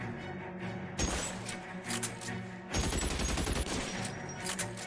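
Gunfire in the video game LA Noire: dense, rapid bursts of shots crackle loudly and almost continuously, with two heavier volleys rising above the steady firing and no talk.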